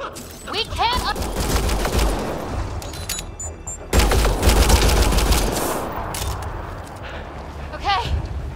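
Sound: gunfire in Mass Effect: Andromeda video game

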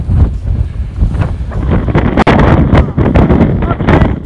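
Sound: wind blowing on the mountain trail

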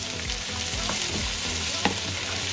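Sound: green banana peel frying in a pan

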